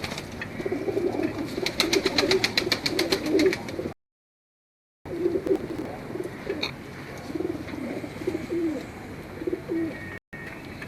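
Pet pigeons of a fancy breed coo close by, with soft repeated throaty calls over a busy background, cut by a brief silent gap.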